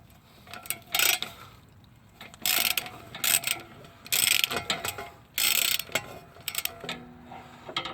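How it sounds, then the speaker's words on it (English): Clicking bursts from a long-handled ratchet with a 13 mm socket working a bolt near the passenger-side CV axle of a 2014–2020 Nissan Rogue AWD, several close ratcheting runs separated by short quiet gaps. "I got a 2-foot extension, extended handle ratchet, and it's got my 13 millimeter."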